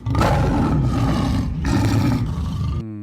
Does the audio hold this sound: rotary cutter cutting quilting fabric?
no